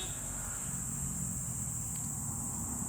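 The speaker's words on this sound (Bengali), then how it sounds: "অনবরত ঝিঝি পোকার ডাক শোনা যাচ্ছে।" A continuous high, steady chirring of crickets, fairly faint, over a low background hum with no other sounds.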